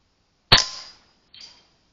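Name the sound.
rifle shot hitting steel gong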